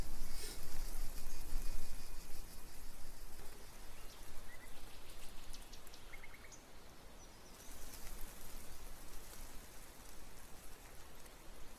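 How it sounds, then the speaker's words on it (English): Steady rain downpour in The Letter visual novel game, a dense continuous hiss of falling drops spread across the whole stretch, with a few faint higher tones and chimes drifting over it. "A dreary downpour starts off the Monday"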